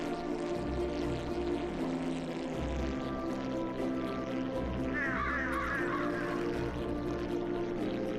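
Crows caw briefly in the Brew Barons video game, a faint cluster of harsh calls over a constant low droning game ambience.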